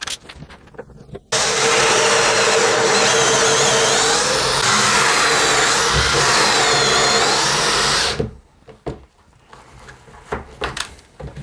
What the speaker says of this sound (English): So let's get this drilled in, screwed in rather.